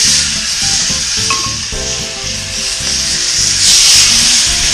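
Ribeye steak hitting a hot Big Green Egg grill, setting off a loud, steady sizzle that holds for several seconds, with crackling and searing hiss close up and no talk over it.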